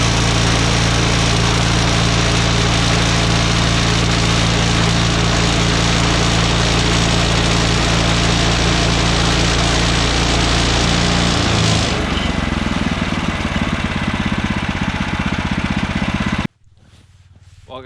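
A Woodland Mills HM126 sawmill with a dedicated hardwood blade cuts yellow birch, giving a loud, steady engine drone with a continuous cutting whine that shifts in pitch partway through, then stops abruptly near the end.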